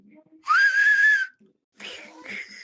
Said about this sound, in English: with the work whistle, you take your tongue, you kind of taco it towards your teeth.